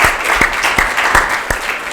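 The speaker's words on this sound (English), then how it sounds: "Can we have a round of applause for John and Mooj?" Applause from a talk audience greets two speakers, a steady patter of clapping with a few louder individual claps standing out, filling the room throughout.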